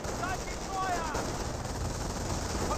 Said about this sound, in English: They do get suppressed by this MG42